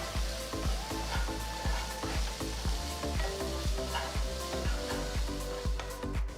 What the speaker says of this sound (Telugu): ఒక నిమిషం పాటు వేయించాలి ఇందులో ఫ్రెష్ కరివేపాకులు అర టీ స్పూన్ ఉప్పు వేసి ఒక్కసారి అంత బాగా కలపాలి